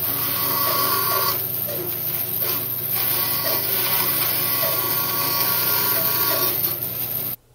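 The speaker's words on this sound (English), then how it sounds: "The disc sander gets the finish right to the line." A disc sander works a curved wooden edge right up to the line, a steady, loud abrasive whir with continuous rasping that varies slightly as the piece moves, then cuts off at the end.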